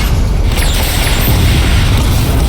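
A Batmobile barrage weapon fires in Batman: Arkham Knight with a dense, loud rumbling roar of blasts. The rapid detonations blur into one continuous, heavy boom that holds steady throughout.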